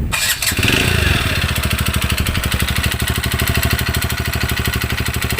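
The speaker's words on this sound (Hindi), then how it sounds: "तो मैं बाइक को स्टार्ट करता हूँ।" A 2020 TVS Radeon BS6 fuel-injected motorcycle engine with an abnormal piston noise starts up close and settles into a loud, steady idle with a rapid, even ticking beat.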